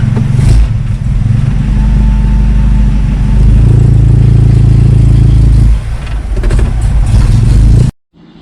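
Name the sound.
1970 Datsun 521 truck engine clattering at certain RPMs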